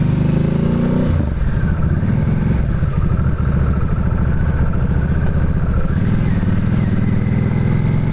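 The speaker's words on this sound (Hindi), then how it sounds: "ये तो खैर पहली बार ही मैं अभी बाइक चला रहा हूँ" A 2025 Harley-Davidson Nightster Special rumbles steadily while being ridden, a loud continuous low engine drone with a slight shift in tone early on and no speech.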